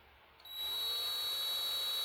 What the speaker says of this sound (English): get your drill bit going and feel when it's real sloppy and loose